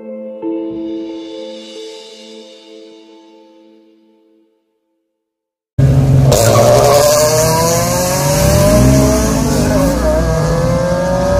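A 1993 drag-racing car with rebuilt internals and racing parts roars up close after a fading musical intro and a brief silence, its engine revving hard in loud, rising and falling sweeps.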